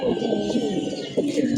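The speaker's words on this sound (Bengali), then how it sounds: "এখানে সব উড়ানো কবুতর আমার" Flying and tournament racing pigeons in a loft coo close by in soft, repeated throaty rumbles, with someone talking over them.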